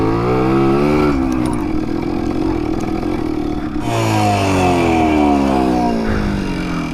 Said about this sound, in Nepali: so this is the bike enduro